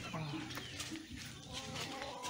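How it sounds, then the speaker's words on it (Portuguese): Chickens clucking in an outdoor farmyard, several short overlapping clucks at moderate distance over steady background noise, with other bird chatter mixed in. "Tá vendo aqueles animais, aquelas galinhas?"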